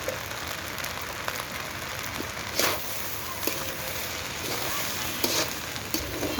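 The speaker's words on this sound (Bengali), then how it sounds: "ভালোভাবে নেড়ে নিচ্ছি" Turmeric and coriander powder frying in hot oil as they are stirred for khichuri, a continuous close sizzle broken by scraping clacks of the spoon against the pan.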